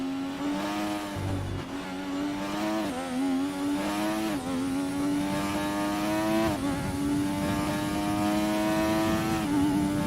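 F1 race car engine in a racing video game, a high continuous whine that rises and drops through several quick downshifts with brief blips, loud and close with no voices.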